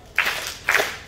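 Two sharp claps from people, spaced about half a second apart, crisp and fairly close with a short room echo, alone without voices.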